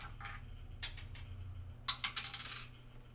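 Dice spill out of a box at a tabletop role-playing game, a quick run of small hard clicks and rattles, close and fairly quiet with no talking.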